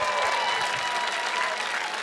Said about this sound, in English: One more round of applause for our racers here.